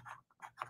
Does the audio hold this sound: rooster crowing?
no